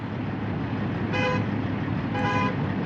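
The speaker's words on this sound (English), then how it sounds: "that would suck if that car honks all the way home" Two short honks from a Buick's horn about a second apart, each a steady tone over constant low road and engine rumble.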